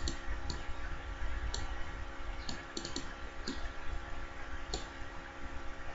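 A computer mouse gives a scattered series of sharp, close clicks, several in quick pairs like double clicks, over a steady low hum with no talking.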